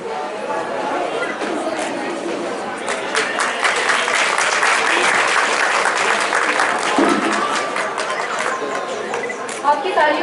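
Steady, dense applause from an audience at a grocery traders' association gathering rolls on for several seconds, close and full, with faint chatter underneath.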